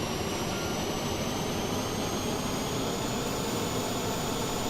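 Auxiliary power unit of an Airbus A320 idling in Microsoft Flight Simulator, a steady, loud turbine roar with a faint high whine, unbroken and without talk.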